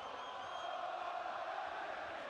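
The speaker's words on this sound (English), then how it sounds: "We weren't sure if the crowd was going to be loud, but they are" A boxing arena crowd at a heavyweight title rematch makes a steady, dense roar of cheering and shouting. It holds even and sustained, with a distant, reverberant quality.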